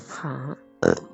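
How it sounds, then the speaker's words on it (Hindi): A loud, close burp after a full meal, a drawn-out low croaking eructation followed by a short spoken reply. "डकारे तक निकल ली है मेरी।"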